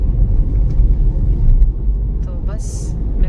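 A car is driven and parked with a continuous low engine rumble throughout. A brief high electronic tone sounds near the end, and voices can be heard faintly.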